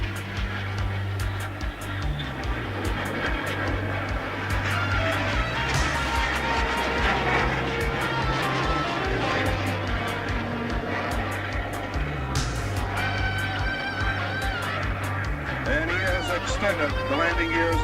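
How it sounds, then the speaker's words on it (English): Jets of an Italian aerobatic team fly a loop at an air show, a broad roaring rumble that swells and fades under steady commentary and crowd noise. "coming out of the loop with gears down and flaps down and executing left roll in a dirty configuration"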